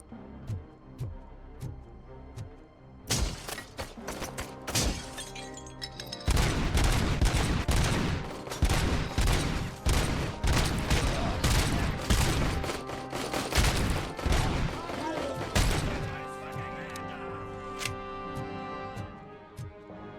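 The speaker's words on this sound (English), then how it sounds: "Let's try out the assault rifle." Rapid bursts of assault rifle fire from the RoboCop Rogue City video game crackle in clustered volleys with brief pauses, growing denser midway over game ambience.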